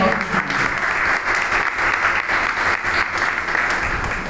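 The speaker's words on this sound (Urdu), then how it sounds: "ذرا تالیاں بجا دیجیے۔" A church congregation claps hands during a sermon, with steady, dense applause filling the room at moderate volume.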